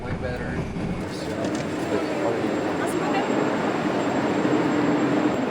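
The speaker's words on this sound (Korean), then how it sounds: "와, 이게 지하철역입니다, 여러분." A subway train rumbles steadily through an underground metro station in Uzbekistan, a sustained low roar that builds slightly, with a faint high whine on top.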